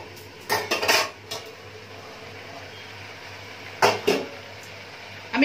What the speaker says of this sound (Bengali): ঢাকনাটা সরিয়ে দিই, কতটা ভাজা হয়েছে দেখে নি।